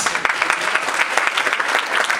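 Applause from a theater audience greets graduating ballet students of a ballet school at a season-end show, a dense, steady patter of many hands clapping fairly close with no voices over it.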